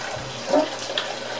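Tap water runs into a sink while film-developing gear is rinsed, a steady soft broadband wash with a few brief clunks and splashes near the middle.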